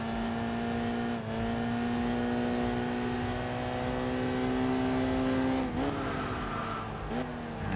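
A stock three-cylinder Storia in the racing game Enthusia Professional Racing drones loudly and steadily, its engine pitch creeping upward, then dipping briefly at a few gear changes or throttle lifts before climbing again, with no talk.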